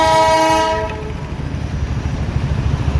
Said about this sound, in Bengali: টয় ট্রেন আমাদের পাশ দিয়ে বেরোলো